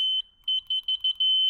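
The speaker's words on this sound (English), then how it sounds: "I've never heard an electric horn like this, like the same pitch." A Segway F2 Pro electric scooter's horn gives a series of short, high-pitched electronic beeps in an uneven rhythm, the first held longer and the rest quick taps ending in one sustained tone, clear and close.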